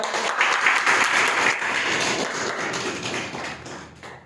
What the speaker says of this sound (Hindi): उनके लिए एक बार जोरदार ताली